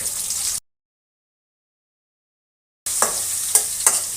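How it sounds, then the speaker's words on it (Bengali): Garlic and potato sizzling and being stirred together in a frying pan while cooking a pumpkin-shoot vegetable curry, with a steady close sizzle, a long silent gap, then renewed frying with a few sharp stirring scrapes. "রসুন ভাজা হতে হতে এর সঙ্গে আমি আলুটাও দিয়ে দিচ্ছি, একবারে দুটোই ভাজা হয়ে যাবে।"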